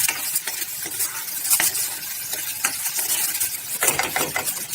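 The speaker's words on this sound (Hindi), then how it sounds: "अब इसमें हम चॉप किए हुए अनियन डाल देंगे और इसे भी 2 मिनट के लिए, जब तक ये लाइट गोल्डन ब्राउन नहीं हो जाते, तब तक इसे फ्राई करेंगे।" Chopped onions frying in a pan until light golden brown, a loud, close, constant sizzle broken by repeated scraping strokes of a stirring utensil, with no voices.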